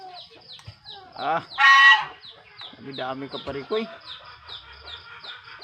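Geese and other poultry on a provincial farm raising turkeys and geese, several nearby birds honking and clucking in overlapping bursts, one loud call standing out, while someone speaks briefly.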